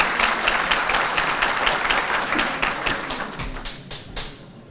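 Audience applause greets a municipal mayor being invited to the podium at a Yörük Türkmen cultural workshop in Antalya, loud close clapping that thins out and fades toward the end.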